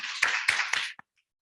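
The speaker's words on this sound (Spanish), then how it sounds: "de un aplauso final" Brief applause from the audience closing a book launch event, a dense patter of clapping lasting under a second before cutting to silence.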